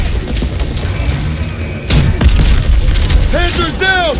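A Panzer tank blowing up in the WW2 shooter Call of Duty: a deep, rumbling boom swells midway and holds under continuous battle noise, with chirping sound effects near the end.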